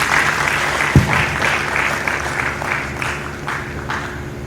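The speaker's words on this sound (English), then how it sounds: "I thought you were going to clap for that." An audience at a Delta State MSME summit presentation breaks into light, scattered clapping, with individual claps audible and a single sharp bump near the start, continuing evenly at moderate volume.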